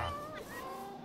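A Minecraft ocelot, the jungle-spawning wild cat, gives a single clear meow that rises and falls, close and moderately loud over a faint game background.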